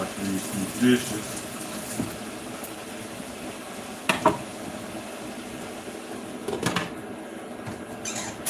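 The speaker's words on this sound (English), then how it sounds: "And wash these two dishes." Two dishes are washed under a running kitchen tap, a steady hiss of flowing water broken by occasional clatters and knocks of crockery close by.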